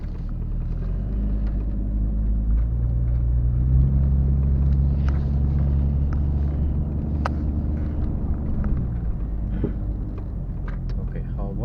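A Jeep XJ drives along with a steady low engine rumble and road noise throughout, a close, continuous drone with small clicks and rattles on top.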